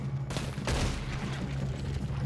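Gunfire in Red Dead Redemption 2 rings out as a sharp burst followed by a rolling, reverberant boom that fades slowly, with a low steady hum underneath.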